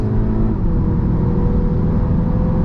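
A 2021 Audi TT 45 TFSI Quattro S-Line accelerating at speed, heard from inside as a steady, loud engine drone with road and wind roar, continuous and without talking.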